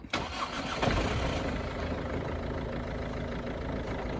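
A Ford Focus engine with injector problems cranks briefly and catches, then settles into a steady rumbling idle close by.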